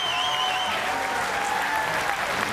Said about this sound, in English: His wife applauds.